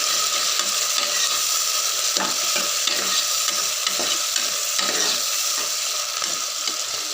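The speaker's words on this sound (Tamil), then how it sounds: "இப்போ வந்து இதை வந்து நல்லா எண்ணெயில் நல்லா வதக்கிக்கலாம்" Onions and green chillies sauté in oil in a pressure cooker, giving a loud, steady sizzle broken by rhythmic scraping stirs every second or so. No one talks.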